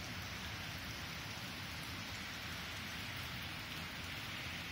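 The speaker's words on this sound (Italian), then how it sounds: "Sta piovendo molto, siamo a Santo Stefano al Mare." Heavy rain pours steadily on the seaside town of Santo Stefano al Mare on the Riviera dei Fiori, a dense, even hiss of drops hitting surfaces with no voices.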